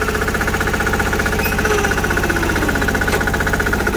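A small 6 horsepower diesel engine runs steadily up close, its rapid knocking pulse continuous and loud throughout with no talk.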